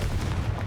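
A Confringo explosive spell in Hogwarts Legacy goes off as a short, heavy, booming burst with deep low rumble, loud and close throughout its brief span, with no talking.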